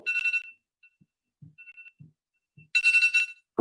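A short electronic timer alarm sounds twice in a council meeting chamber, with brief chiming bursts at the start and end separated by quiet thumps, marking the end of a councillor's three-minute speaking time.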